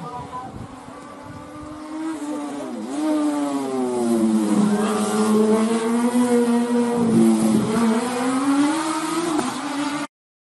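A race car engine roars and revs up at a hill climb race, pitch rising and dipping through gear changes over ten seconds, loud and close, then cuts off abruptly.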